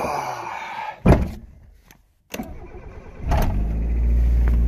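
A car engine cranks and catches in a video game after a door-like slam, with a short silent gap before the motor settles into a loud, steady idle that runs to the end.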